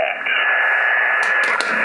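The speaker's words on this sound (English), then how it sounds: "I'm on 80 meters, and yeah, there's noise, but it's picking up a lot of signal here" Shortwave receiver on the 80-meter amateur band fed by an RA0SMS mini-whip antenna, steady band-limited hiss and noise with a faint signal tone running through, short static pops near the end.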